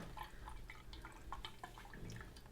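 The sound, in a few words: buttermilk dripping through a strainer spout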